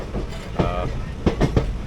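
A train approaching Bandel station in West Bengal, rumbling along with rhythmic clickety-clack of wheels over rail joints, close and fairly loud, with a brief squeal-like tone early on.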